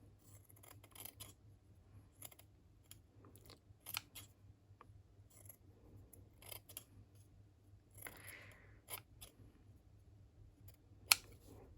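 Scissors snip intermittently through lace cut from a charity-shop scarf, trimming out a flower shape; soft, close clicks and rustles spread unevenly over several seconds with a low steady hum beneath and no speech.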